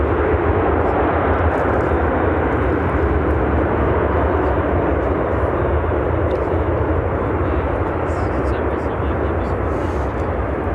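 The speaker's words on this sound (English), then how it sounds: "This is United Airlines 2658 coming in from Houston Intercontinental on a 737-800" A United Airlines Boeing 737-800 arriving at O'Hare from Houston, its jet engines producing a loud, sustained rumbling roar that stays constant across the pass, with speech likely layered over it.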